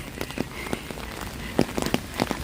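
Rain patters and taps steadily on a small one-person umbrella overhead, with close, irregular drops striking the canopy and no talking.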